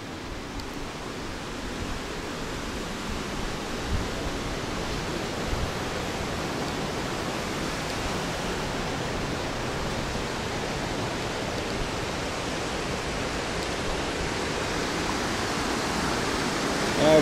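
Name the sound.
river of melting snow flowing in the Balkan Mountains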